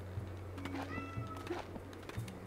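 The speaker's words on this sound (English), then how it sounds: "My cat is being extra loud today." A cat meows repeatedly nearby, several short calls over a steady low background hum.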